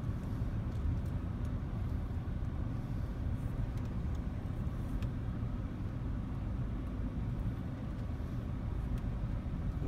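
Car fitted with hand controls for a disabled driver pulling away and speeding up: a steady, broad engine and road rumble that stays constant and fairly loud throughout, with no voices.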